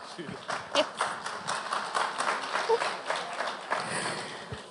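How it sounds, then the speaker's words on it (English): Audience applause for Amol at a school competition prize distribution, moderate scattered clapping from a hall crowd with uneven bursts, with a voice faintly heard over it. "Please give a big round of applause for Amol."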